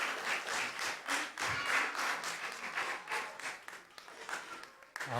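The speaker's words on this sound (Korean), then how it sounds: "우리 다시 한번 우리 박수해 주시면 감사하겠습니다." A church congregation at a Sunday morning service applauds children of the Sunday school after their praise song, dense clapping in uneven swells that taper off toward the end.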